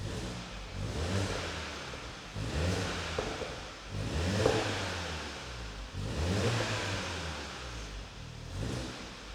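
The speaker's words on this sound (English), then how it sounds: "put it into sport, give it a little rev" A VW Golf GTI Mk7 Launch Edition petrol engine set in sport mode is revved several times, each rev swelling and falling back. The sound is moderately close with no talking.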